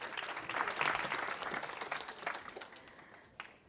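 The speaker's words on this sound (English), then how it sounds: "let's give her a big round of applause" Audience applause for a business presentation speaker, a dense wash of clapping that swells early then gradually thins and fades toward the end, fairly faint overall.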